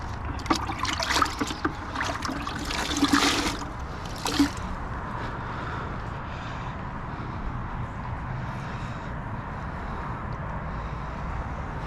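Hand washing of a car with Optimum No Rinse rinseless wash: wet wiping, splashing and dripping water, busiest at first, then a steady soft watery wash fading into low background noise.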